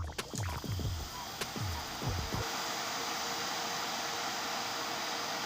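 A modified power amplifier switched on after reconditioning gives a quick run of thumps and clicks, then settles into a steady, even hiss that carries on alone, close and fairly loud.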